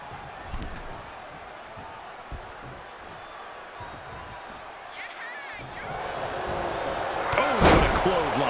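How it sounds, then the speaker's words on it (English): A clothesline wrestling impact lands in the WWE 2K25 video game, a sharp slam over steady arena crowd noise that swells into louder cheering near the end, with commentary voices running underneath. "Oh, what a clothesline."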